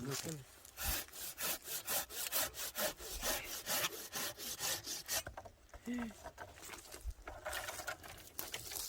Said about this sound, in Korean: 지금 나무를 약간 좀 낮게 키우시려고 저 윗부분을 좀 자르셨어요